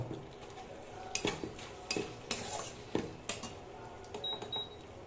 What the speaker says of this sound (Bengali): এবার নেড়ে চেড়ে টমেটোটাকে গলিয়ে নেব।